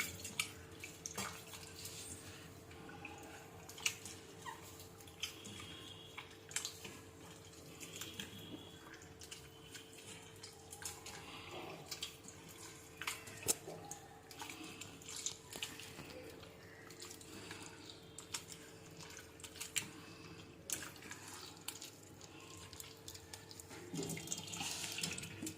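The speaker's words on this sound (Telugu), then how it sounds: "ఇంకా కొంచెం వాటర్ పోస్తున్నాం." Water poured over tamarind to make a paste, a faint, continuous trickle and splash with occasional drips under a low steady hum, no voices.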